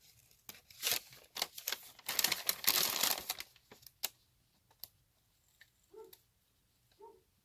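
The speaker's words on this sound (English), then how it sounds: "I usually just take my scissors and round them off" Crisp snipping and rustling of paper in quick irregular bursts, close by, followed by a few sparse snips with near silence between them.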